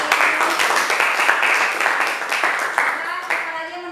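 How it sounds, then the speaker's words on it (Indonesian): Applause from a classroom of students during a biology lesson, a dense, steady patter of many hands clapping together that fills the whole stretch at an even level, with a few sharper claps standing out near the end. "Tepuk tangan buat Desti."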